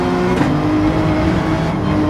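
Race car engine in Gran Turismo 7 at Road Atlanta, loud and steady with a harmonic engine drone as the driver downshifts through the gears, revs holding throughout.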